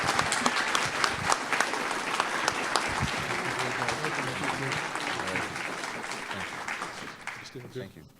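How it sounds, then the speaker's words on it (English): An awards-ceremony audience applauds honorees Ken and Liz Mascaret: loud, dense clapping from a large crowd, steady for several seconds before tapering off, with some voices mixed in. "Please, a round of applause for Ken and Liz Mascaret."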